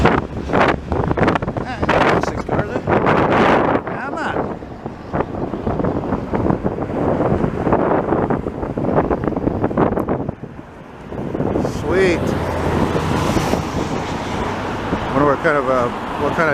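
Strong wind buffets the microphone on a blustery afternoon beside the rail lines in Montreal, a loud continuous rumble and roar that eases briefly near the middle before surging again, with voices and train sounds mixed in.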